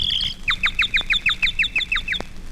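A performer whistles a bird imitation for a 1930s radio comedy sketch: a rapid run of about nine bright, close chirps in a steady rhythm, loud and clear with no talking.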